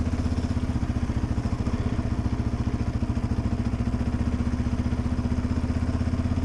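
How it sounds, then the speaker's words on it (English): A steady, rumbling Yamaha Raptor 700R ATV engine runs close by, idling with a low, even chug that holds constant throughout with no voices. "I'm having a great time on this motorcycle, four-wheeler"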